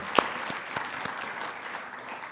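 Audience applause at a meditation festival, a moderate crowd clapping steadily in a room, with a few sharper claps standing out near the start and fading slightly by the end.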